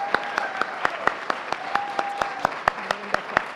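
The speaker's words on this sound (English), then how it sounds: "let's give them an appreciation with our applause" Steady crowd applause with sharp, rhythmic claps standing out over the general patter, sustained throughout.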